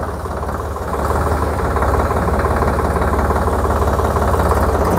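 A new 58 HP tractor engine with 220 Nm torque rumbles steadily at close range, its low, throbbing drone rising slightly in load as it shifts into second gear, with no talk over it.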